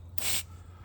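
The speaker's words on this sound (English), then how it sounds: "I'm gonna spray off our roller" Water spraying paint out of a paint roller cover, a single short loud hiss of about a quarter second, then quiet with low hum.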